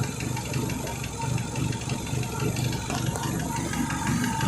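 A Renault Megane 2 engine idles roughly with a suspected misfire, its steady low rumble broken by uneven rattly pulses, close and continuous throughout.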